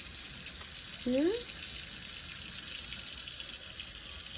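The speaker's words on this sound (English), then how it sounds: "You like that water though, huh?" Steady running water from a tap during a cavapoo puppy's first bath, a continuous close hiss with a brief puppy whine partway through and a person speaking softly.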